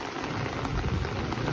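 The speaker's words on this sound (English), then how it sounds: "rainy day here in the Philippines" Steady rain pours down on Barrio Barretto Beach in the Philippines, a dense, continuous hiss close by with no voices over it.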